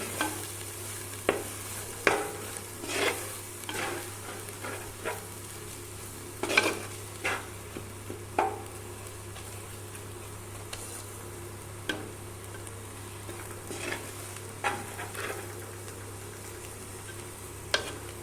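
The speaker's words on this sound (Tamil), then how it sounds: "இப்போ இதெல்லாம் வந்து நல்லா பச்சை வாசனை போகிற அளவுக்கு நல்லா வறுத்துக்கலாம்" Chilli powder and coriander powder are roasted in a pan for crab curry, with a low sizzle under repeated scraping and tapping of a spoon against the pan, close and irregular, and no voices.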